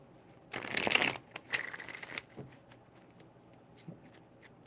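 Tarot cards riffled and shuffled in two quick bursts of crisp papery rustling, close and fairly loud, trailing into soft handling taps and light card shuffling.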